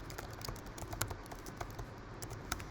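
Soft, quiet tapping on a computer keyboard, with a run of irregular keystrokes against a hissy background and no talking.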